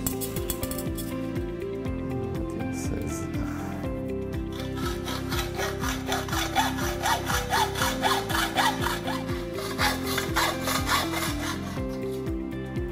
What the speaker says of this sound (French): on va découper la partie qui est ouverte de la barre